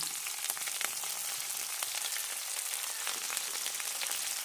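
Chopped garlic and green chili frying in mustard oil in a pan, a steady close crackling sizzle with fine rain-like spatter throughout.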